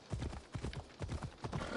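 A horse's hooves clip-clop quickly and evenly in a steady gallop rhythm in Assassin's Creed Odyssey, dense and fairly quiet, with no talking.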